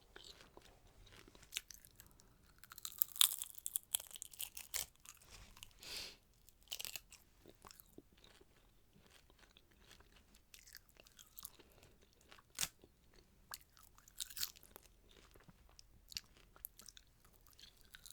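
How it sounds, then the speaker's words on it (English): Crunchy South Korean seaweed snack eaten up close, with bursts of sharp crisp crunching and chewing that come and go, quiet pauses between bites and soft mouth sounds; no talking. "seaweed ASMR, like when people eat it in mukbangs and ASMR, it sounds really nice"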